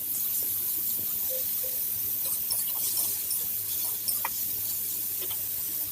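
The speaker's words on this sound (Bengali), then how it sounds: "ফোড়ন দিয়ে চালটাকে একটু নাড়িয়ে নিচ্ছি তেলে দিয়ে" Rice being stirred in hot oil with tempering spices, giving a faint steady sizzle and hiss with soft scraping stirs, no voices.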